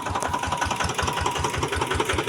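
A rice grain dryer machine running near palay fields, a steady mechanical chugging with a fast regular thumping rhythm, loud and close, with no talk over it.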